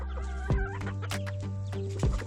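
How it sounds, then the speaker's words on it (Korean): Hens cluck and chatter close by, with soft repeated clucks and a few sharper calls and thumps over a low steady hum, as a rooster mates with the hens. "크리미가 옆에 없어서인지 놀부는 이제 편안하게 암탉들을 만날 수 있게 되었다."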